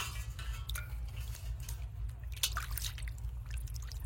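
Hilsa fish pieces are rinsed in a bowl of water, with soft drips, squishy splashes and an occasional clink of the dish, faint and close with no talk.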